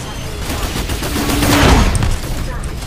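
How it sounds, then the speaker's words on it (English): Gunfire in the video game Titanfall 2 crackles in a dense, continuous stream, loud and close, swelling toward the middle and easing slightly near the end, with no talk over it. "I'm getting shot."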